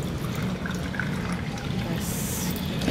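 Water poured into cardamom sharbat syrup, a steady close trickle and splash of liquid lasting a few seconds with faint background noise.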